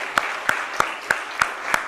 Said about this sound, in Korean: 다시 박수로.